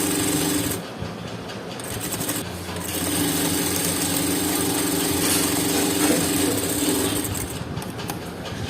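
Sewing machine runs in fast, steady stitching bursts while sewing a halter neck blouse, the mechanical whirr close and loud, pausing briefly near the start and again toward the end.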